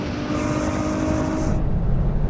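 Ferrari V12 car accelerating hard in a drag race, a loud sustained engine roar with rising tone and a gear change partway through, heard alone without talk.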